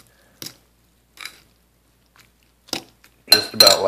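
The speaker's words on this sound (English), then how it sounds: "take your fork, and you're just going to want to mix it, and just like kind of layer the ramen in with the eggs" A fork stirs ramen noodles into eggs in a bowl, giving a few soft, spaced clinks and scrapes that build into a louder burst of wet, squishy mixing at the end.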